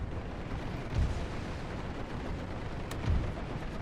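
Artillery guns fire in a World War I strategy game, with two deep, muffled booms about two seconds apart over a constant dense rumble of battle noise.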